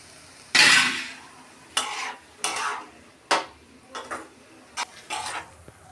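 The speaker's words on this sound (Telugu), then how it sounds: "ఇప్పుడు పాలు వేసుకొని ఈ క్యారెట్ తురుముని మనం ఉడికించుకోవాలి." Grated carrot and milk for carrot halwa being stirred in a pot, with a series of separate scraping stir strokes of varying length, close and fairly loud, with no talk.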